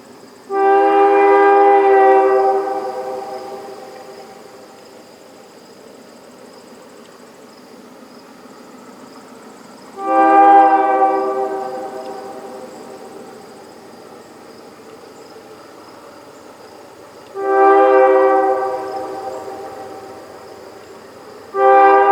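Adirondack Railroad train sounding its horn in three long, loud harmonic blasts spaced several seconds apart, with steady insect chirping filling the quiet gaps.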